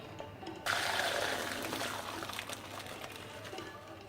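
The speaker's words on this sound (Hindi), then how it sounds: "चावल गल चुके हैं और इसका पानी निकाल देंगे" Water from cooked rice for a Hyderabadi veg biryani is drained off, a steady rushing pour that starts abruptly and continues as a splashing trickle, fairly close and with no talking.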